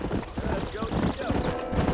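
Horse hooves clip-clopping at a quick, steady gallop, loud and close, with a few faint tonal chirps over the rhythm, in the video game Red Dead Redemption.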